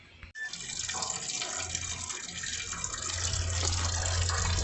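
Coolant drains from a 1999 Ford Ranger XLT 4.0 into a pan, a steady splashing liquid stream that starts abruptly and runs on continuously, close and growing slightly fuller.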